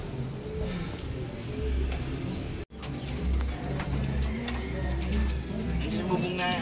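Racing pigeons coo in a steady stream of soft, low calls at close range, with chatter from people nearby and a brief cut partway through.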